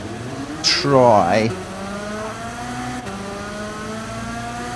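Kart engines in Gran Turismo 7 rev up in a rising, sweeping whine at the race start, the sound then settling into a steady droning hum as the pack moves off, with someone talking over it.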